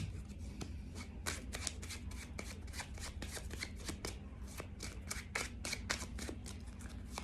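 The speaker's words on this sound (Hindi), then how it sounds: "जब तक मैं कार्ड शफल करूंगी आप अपने पर्सन के बारे में सोच सकते हैं" Tarot cards shuffled by hand in steady, rapid riffling bursts, close and crisp, repeating continuously without talk.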